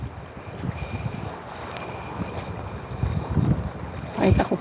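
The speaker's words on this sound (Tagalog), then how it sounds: "Siguro po may hangin." Wind gusting beside the sea, with a steady low rumble of moving air and water near a boat, rising into louder buffeting gusts near the end; no talking.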